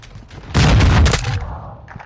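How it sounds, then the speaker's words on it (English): A flash bang grenade goes off in a video game as a single loud, dense blast that swells and then decays over about a second, with faint room noise before and after. "flash bang"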